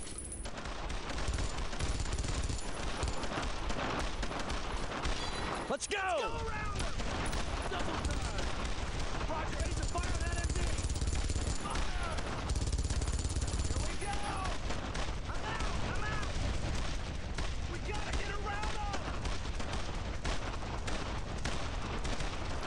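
Machine gun fire in the WWII shooter Brothers in Arms: Road to Hill 30, sustained loud rattling bursts with distant booms throughout, while someone talks over the din.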